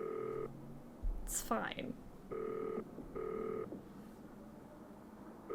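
In a Nancy Drew video game, several evenly spaced electronic telephone tones beep during a phone call, with a brief spoken line and a swooping sound effect in between.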